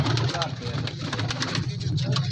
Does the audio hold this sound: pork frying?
no